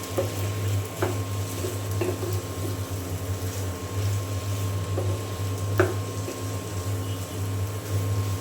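Pumpkin fry being stirred in a hot pan, a steady low sizzle with a few sharp scrapes and taps of the spatula against the pan.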